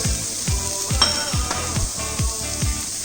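Parboiled cauliflower and potatoes sizzle in a hot pan with roasted masala. A steady hiss of frying runs under rhythmic low thuds and scrapes about twice a second as the vegetables are stirred.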